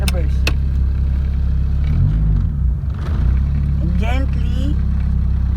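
A manual-transmission car's engine rumbles low and steady as it pulls away, with a brief rise in pitch midway, close and fairly loud, while a person speaks briefly over it.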